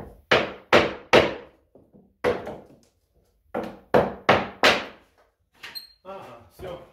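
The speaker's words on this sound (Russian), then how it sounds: "Мы все равно на гвоздях работаем. Ну и забиваем." Hammer blows drive nails into wooden boards during a house repair, landing in close loud clusters of two or three strikes separated by pauses, with a few lighter taps and a faint metallic ring near the end.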